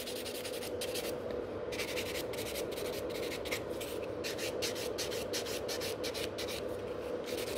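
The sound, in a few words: filing fingernails with a white nail buffer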